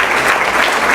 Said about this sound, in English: everybody give Eli a round of applause